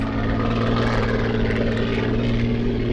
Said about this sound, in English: the big Rolls-Royce Merlin, 27 litres of V12 Rolls-Royce engine fire into life